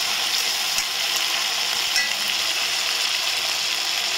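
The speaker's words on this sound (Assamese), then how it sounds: "মই সৰু মাছখিনি ভাজি আছোঁ" Small fish frying in a pan during a home breakfast cook, giving a loud, close, continuous sizzle and crackle with occasional sharper pops and no voices.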